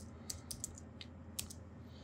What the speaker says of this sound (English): Type the password that you have set.